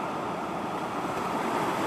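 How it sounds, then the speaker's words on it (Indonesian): Waves wash onto a beach at Sawang in South Aceh, a steady, soft surf roar mixed with wind noise and no voices. "saya berada di pantai Aceh Selatan, tepatnya di Sawang"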